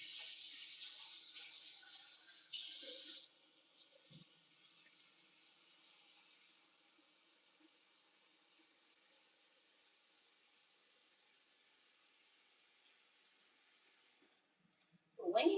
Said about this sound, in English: So I'm gonna wash my codfish one more time